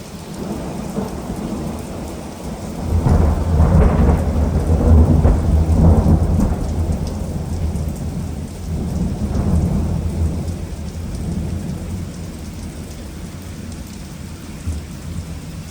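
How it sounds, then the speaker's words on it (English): Heavy rain from a Kansas thunderstorm pours steadily while deep thunder rolls and rumbles through the middle, then fades back to the constant downpour. "This is what a Kansas thunderstorm sounds and looks like."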